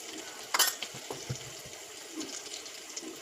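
Turmeric, asafoetida, red chilli and salt fry in hot oil for a tempering, giving a quiet, steady sizzle with one sharper splutter and a few faint stirring clinks.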